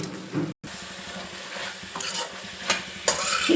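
A spoon stirs coriander powder into cauliflower curry in a pan over a low flame, with soft scraping strokes over a gentle sizzle and occasional brief clinks.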